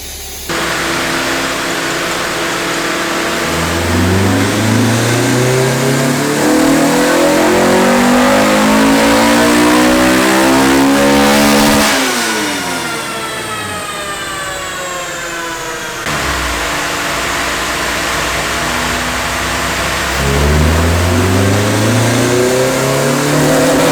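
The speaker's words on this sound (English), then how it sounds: "so we just finished dyno tuning the car" Tuned Honda EG hatchback with an H2B engine swap, running E85 on a dyno, revving hard through repeated loud rising pulls, each climbing sharply in pitch, then dropping back to idle between runs.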